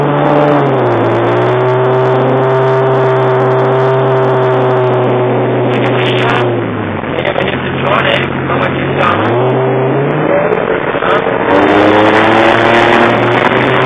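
A Porsche Carrera 4's engine revs up repeatedly, rising and falling in pitch over a steady idle, heard loud and close; people talk briefly between revs.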